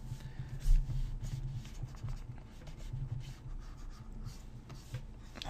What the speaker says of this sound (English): let me just draw like a profile view